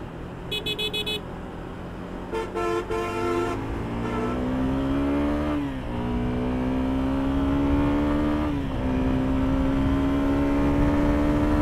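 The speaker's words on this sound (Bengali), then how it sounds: "আমি লোয়ার গিয়ারে এটা পুল করে দেখাচ্ছি আপনাদেরকে যে কি পরিমাণ এটা পাওয়ার ডেলিভারি করতে পারে লোয়ার গিয়ার থেকে।" A Suzuki Gixxer SF 250 motorcycle pulls hard in a low gear, its engine note climbing steadily in pitch through two gear changes, loud and close with no talking.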